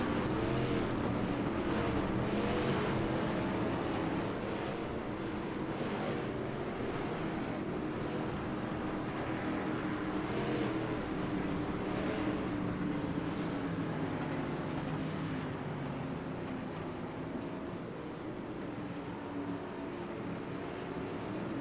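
Street stock race cars rolling slowly around Stafford Motor Speedway on a pace lap before a heat race, a continuous low engine drone from the pack that stays steady and fairly loud throughout.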